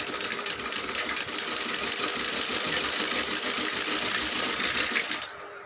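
A sewing machine stitches a kurti, running as a steady, close, rapid mechanical whir with a fast needle rhythm that slows and stops just before the end.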